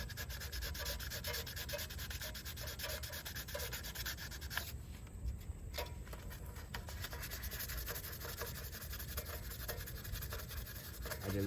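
Brake caliper from a Chevrolet Malibu being hand-sanded with 600-grit sandpaper: steady back-and-forth rubbing and scratching strokes, close and continuous, with a brief pause midway.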